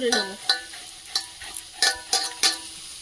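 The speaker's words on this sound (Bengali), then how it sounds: "এখানে জিরে গুঁড়ো দিয়ে নেড়ে চেড়ে জল দিয়ে দেবো।" Spices with cumin powder fry in a pan while a utensil stirs them, giving faint sizzling and a series of sharp scraping strokes in an irregular rhythm.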